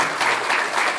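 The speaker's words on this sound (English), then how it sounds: "a round of applause for both of these candidates for taking part in this" Audience at a district attorney candidates' debate breaking into brief, steady applause, a dense patter of many hands clapping throughout the short moment with no voices over it.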